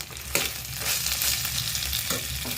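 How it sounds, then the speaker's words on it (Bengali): Tomatoes go into a hot frying pan and get stirred, a steady close sizzle with scraping stir strokes near the start and again toward the end, no voices. "এরপর টমেটোটা দিয়ে দিলাম। টমেটোটা নাড়ার পর"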